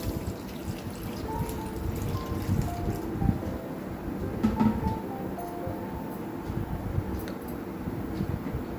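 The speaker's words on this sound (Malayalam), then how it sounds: "ഇനി ആവശ്യത്തിന് വെള്ളം." Water poured into a pressure cooker holding beans and vegetables: a steady, moderately close pouring and splashing stream with gurgles and small clinks lasting several seconds, with no voices.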